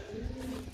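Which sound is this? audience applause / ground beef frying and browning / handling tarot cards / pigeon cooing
pigeon cooing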